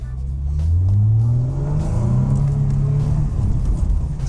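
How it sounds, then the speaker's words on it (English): A Lexus with 185,000 miles on it revs in sport mode, its engine climbing in a loud, close, rising drone and holding high before easing off. "What a good sounding engine."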